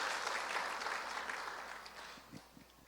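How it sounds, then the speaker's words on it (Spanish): A crowd claps steadily, the applause fading gradually toward the end. "yo creo que eso merece un aplauso"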